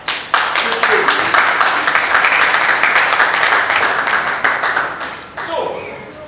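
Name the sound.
audience clapping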